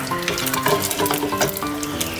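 An egg fries in a pan over a low flame, giving a steady close sizzle and crackle with a few spoon stirs, and no voices.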